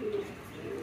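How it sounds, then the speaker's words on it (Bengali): A Jalali pigeon on a farm gives a soft, low, rolling coo, one brief close call, heard alone with no voices. "এটা তো জালালি কবুতর, জালালি কবুতর"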